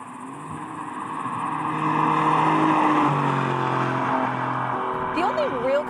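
Alfa Romeo Giulia Quadrifoglio accelerating, engine note climbing steadily in pitch as revs build, heard from the cabin with a brief shift near the end and faint background noise.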